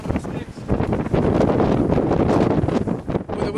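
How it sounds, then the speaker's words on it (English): Strong wind blows hard across the microphone outdoors, a loud, continuous roaring buffet that swells and dips but never stops. "Where the wind's not blowing at me."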